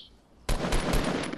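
Automatic gunfire in the video game Fortnite, a loud sustained burst that starts abruptly after a brief quiet moment and rattles on continuously to the end.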